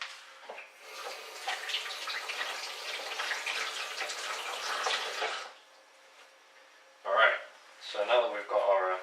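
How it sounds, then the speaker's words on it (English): Tap water runs steadily from a kitchen faucet as a leek is rinsed under it, a close, continuous hiss that cuts off abruptly, followed by a few short splashy bursts. "I'm just going to wash this very quickly."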